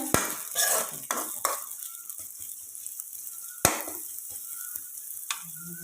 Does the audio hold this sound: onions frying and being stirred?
yes